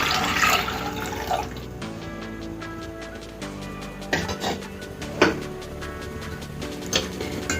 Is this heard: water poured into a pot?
yes